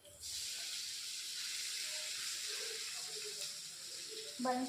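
Flattened rice tipped into a hot pan with sugar already in it sets off a steady broad hiss of sizzling that runs nearly throughout, with faint utensil clinks near the end.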